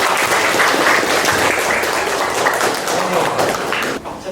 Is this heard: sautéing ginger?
no